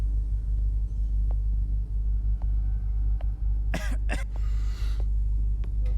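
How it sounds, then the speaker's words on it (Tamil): Two or three harsh coughs burst out from a character in the horror game Maid of Sker over a steady low rumble, followed by a raspy throat-clearing noise, with a few faint clicks scattered around them. "இடத்துக்கு வந்தா அவனுக்கு இருமல் வருது போல"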